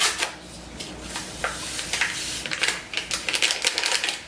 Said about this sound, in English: So I'm mixing all my dry ingredients together.